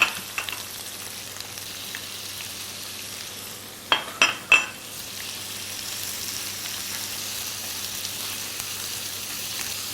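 Minced pork and chopped shrimp stir-frying in a pan with shallots, a steady soft sizzle throughout with a few sharp scraping clatters of the spatula midway, no talking.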